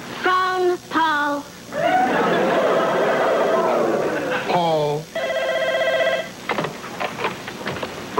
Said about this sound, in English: Phone, Paul.